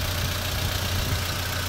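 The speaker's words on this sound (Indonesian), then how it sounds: "Suara injektornya yang kenceng, suara mesinnya hampir nggak ada." A 2006 Toyota Avanza engine idles steadily with a dense, even mechanical hum, and its fuel injectors are said to tick loudly over a quiet engine. The sound is close and continuous, with no talk.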